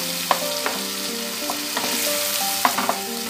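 Garlic and spices sizzle steadily in hot oil for Bengali tel koi, with a spoon scraping and stirring the pan in irregular strokes over the continuous close frying hiss.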